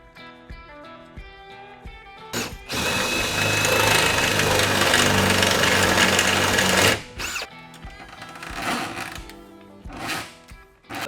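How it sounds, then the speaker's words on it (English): A power drill bores a hole through a car floor, a loud continuous grinding whine lasting about four seconds, bracketed by quieter clunks and handling noises before and after. "then I can drill a hole in the floor"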